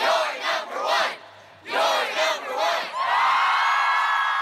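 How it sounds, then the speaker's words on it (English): A high school sports crowd cheers and whoops loudly in two rising bursts separated by a short lull, then swells into a sustained, roaring cheer. "This cheer's for you."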